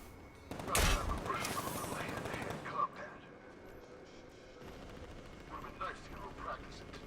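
Burst of gunfire from guns in Batman: Arkham Knight, a loud volley near the start followed by scattered fainter shots and game effects over a steady background.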